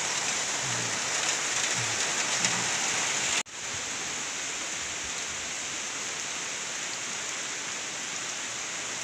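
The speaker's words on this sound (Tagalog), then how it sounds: "lakas ng walang humpay na ulan" Steady, dense hiss of heavy typhoon rain pouring down in the Philippines, continuous and close, with a brief dropout partway through before the downpour resumes.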